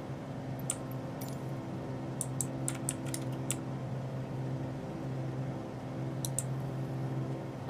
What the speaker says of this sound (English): I'm sorry if my keyboard is, like, noisy. It's a little bit clicky